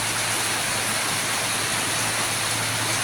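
Heavy rain pours down steadily in a flood-prone neighbourhood, a dense, continuous roar of water close by with no let-up and no voices.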